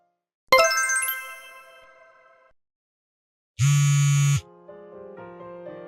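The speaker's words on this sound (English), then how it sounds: "can you answer the phone?" A phone sounds off, starting with a bright chiming jingle that rings out and fades, followed after a pause by a short buzzing electronic tone and a few beeping notes, with no talk.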